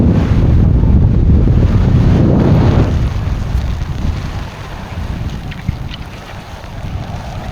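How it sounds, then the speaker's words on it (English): Wind buffets the microphone on the shore of the tidal River Foyle at low tide, a loud rushing roar with waves washing in underneath, easing slightly after a few seconds. "There's waves."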